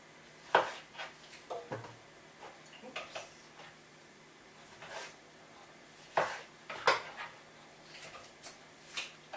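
A fresh tomato is roughly chopped with a knife, making irregular sharp taps on a board in small bursts with gaps, close and moderately loud, no talk.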